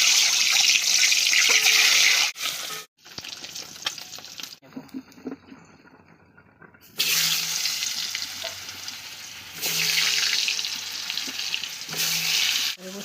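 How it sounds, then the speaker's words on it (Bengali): Potatoes for an egg curry fry in hot oil, giving a loud, dense sizzle that drops away briefly into near silence, then returns in bursts of hissing with occasional utensil scrapes. "এই যে ডিমের ঝোলের আলুগুলো ভেজে নেব।"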